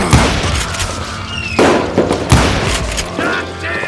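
Gunfire in the Western shooter Call of Juarez Gunslinger, several loud sharp shots and bursts cracking out at irregular intervals, mixed with shouted voices and game sound.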